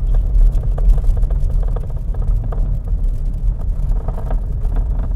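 Busy road traffic with many vehicles passing, heard from inside a car during a driving lesson in the Philippines: a steady low engine and tire rumble with faint clicks, continuous and fairly loud throughout.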